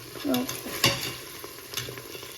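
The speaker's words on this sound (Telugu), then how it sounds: "ఇలా వేగిన తర్వాత మనం చికెన్ వేసేసుకోవాలి" Chicken pieces fry in hot oil in a pan for biryani, a soft sizzle punctuated by a few scraping stirs of a spoon, close and fairly quiet.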